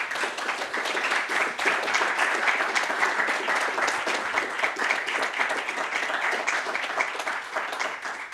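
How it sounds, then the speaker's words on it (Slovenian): Audience applause at an award ceremony for Slovenes abroad, with steady, dense clapping from a large crowd filling the hall for the whole stretch without letting up. "Dajmo en aplavz."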